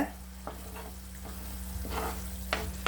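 Kerala chicken curry gravy sautés in oil with a soft, steady sizzle, broken by a series of spoon scrapes against the pan, fairly quiet over a low electrical hum.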